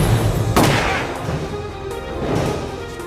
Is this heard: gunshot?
yes